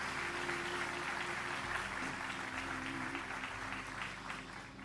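Church congregation applauding together during a Portuguese-language worship service, a steady wash of clapping with low organ or keyboard tones sustained underneath.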